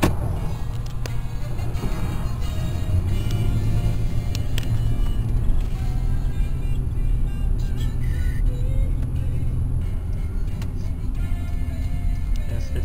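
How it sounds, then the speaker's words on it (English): An approaching car on a road near a wildlife park gate rumbles steadily and up close, a continuous engine and tire drone that fills the whole stretch with faint ticking over it. "Oh, there's a car coming."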